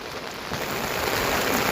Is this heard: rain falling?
yes